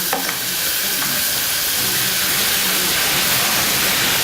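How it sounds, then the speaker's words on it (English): Food in a pan, just salted in a home kitchen in Fortaleza, Brazil, roars with a loud, dense, continuous sizzle as it is stirred, with the hiss filling the whole stretch and no talking. "A little bit of salt, you give it a good stir."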